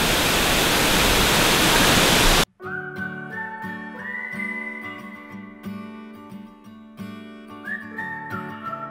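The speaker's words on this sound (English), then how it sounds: "There's already a nice waterfall right here." Loud, steady rush of a waterfall in a gorge near the Columbia River, filling the first couple of seconds close up before it cuts off abruptly and music takes over.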